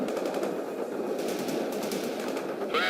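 Rapid continuous machine-gun fire from a Bradley infantry transport in the real-time strategy game World in Conflict, a dense rattling burst heard at a distance amid battle noise, with a short high whine at the end.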